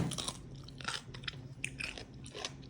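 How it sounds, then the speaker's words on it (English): A homemade fermented pickle is bitten and chewed up close, giving several crisp, wet crunches in quick succession, fairly quiet with no talking. "you cannot beat that crunch"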